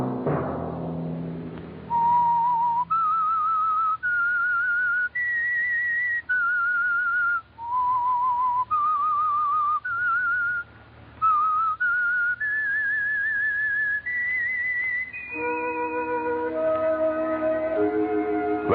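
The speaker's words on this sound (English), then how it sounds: "Let that whistle be your signal for the Signal Oil program, The Whistler." A whistled radio theme signal for The Whistler, a run of clear sustained notes stepping up and down in a melody, solo and close, with brief gaps between phrases and a fuller chord-like passage at the end.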